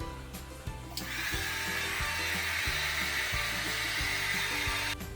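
A hair dryer blows a steady, loud roar to dry freshly repainted shoes, starting about a second in and running almost to the end, with faint rhythmic tapping in the background.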